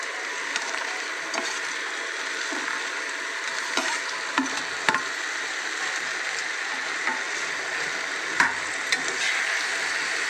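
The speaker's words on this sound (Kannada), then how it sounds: "ಮುಂಚೂರಿ ಹಾಕ್ತಾಯಿದ್ದೀನಿ ಮಶ್ರೂಮ್ದು." Mushroom manchurian made from button mushrooms fries in a pan, a steady close sizzle broken by occasional stirring clicks and scrapes, with no talking.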